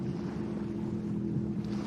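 An offshore superboat roars past during a race on Lake Macquarie, a steady loud engine drone with wind and water rush, constant and unbroken.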